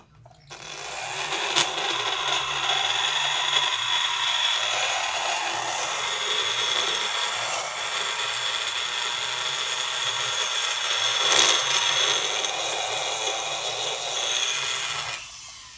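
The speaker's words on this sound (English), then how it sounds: "Okay, just finishing roughing up the windows to the size I want them." A rotary tool roughing in the port windows of a Yamaha Banshee cylinder, a continuous high-pitched grinding whine with slight fluctuations in load, close and steady throughout with no talking.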